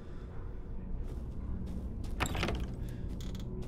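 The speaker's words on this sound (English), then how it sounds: "Oh, okay, so this unlocks that door." A door unlocking and swinging open in the survival horror game Resident Evil Village, a short mechanical clunk and creak rising briefly over a low, steady ambient drone, with no voices.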